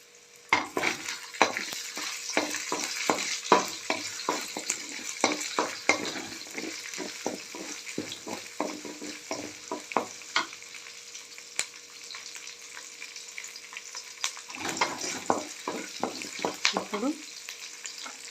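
Grated coconut and spices frying in a pan for a bottle gourd curry, with a steady sizzle under repeated stirring scrapes that pause briefly partway through and then return.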